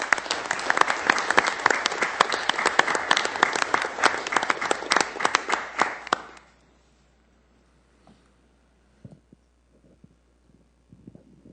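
Applause from the audience at a city council meeting, steady dense clapping for about six seconds that then stops abruptly, leaving near silence with a few faint knocks.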